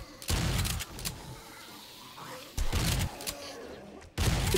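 Mossberg shotgun blasts in 7 Days to Die, fired at zombies with a modded HD weapon: three heavy booming shots spaced a couple of seconds apart, each with a short ringing tail, with faint game ambience between them.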